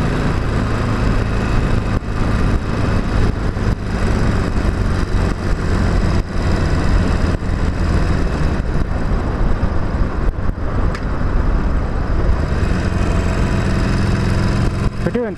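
Harley-Davidson 48 motorcycle with a stock exhaust, ridden in traffic, giving a steady, loud low engine rumble throughout with wind noise and no talk over it.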